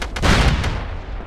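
A grenade blast in the SOCOM Combined Assault shooter game: one loud, close explosion with a broad booming burst that rolls off into a decaying rumble.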